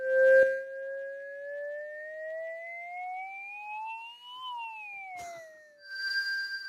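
A clean, sustained FM synthesiser tone from the Nambu iOS app, with chorus applied, glides slowly upward in pitch, then bends back down. Brief clicks mark the start and end.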